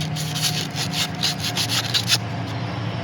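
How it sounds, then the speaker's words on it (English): Sandpaper rubs back and forth over burrs on a chainsaw bar in quick, even strokes, about a dozen close scratchy passes over a low background hum before stopping. "I'm just going to take a little bit of sandpaper, nothing special, and we're just going to sand that until it's smooth."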